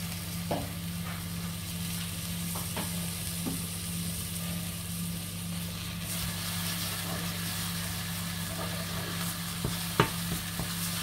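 Steady sizzling of rooster carcass meat browning in a pan, a continuous hiss with a low hum underneath and a few faint clinks, no talking.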